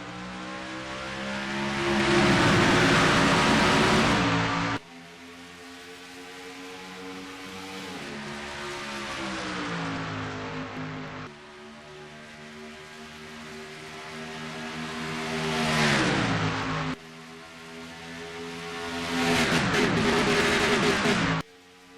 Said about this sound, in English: 36 cars are ready to race here at Michigan International Speedway